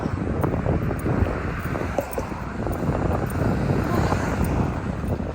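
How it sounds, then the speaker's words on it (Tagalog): Strong, cold early-morning wind buffeting the microphone in a constant low roar with gusty thumps throughout. "Lakas ng hangin guys, malamig."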